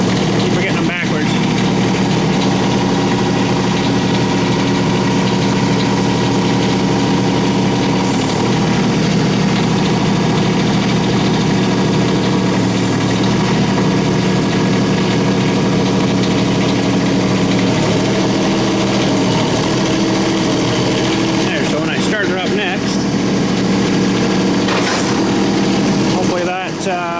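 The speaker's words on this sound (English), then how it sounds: "Exhaust goes right out the door and not filtering around in my building here." An engine idles steadily indoors in a building with its exhaust piped out the door, a loud continuous mid-to-low rumble with vibration that persists throughout, with occasional faint bumps and shifts.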